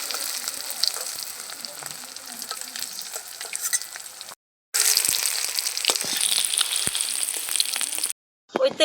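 Oil sizzles and fries steadily in a pan as bay leaves, cinnamon and cardamom are added for tempering in a cabbage and egg curry, with two brief silent gaps interrupting the continuous crackle.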